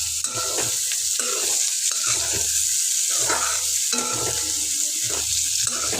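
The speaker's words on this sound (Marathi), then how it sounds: "हे कांदं दहा मिनटं परतून घ्यायचं आहे" Onions sautéing in a pan, a steady bright sizzle with stirring scrapes in a loose repeating rhythm, close and fairly loud with no voices.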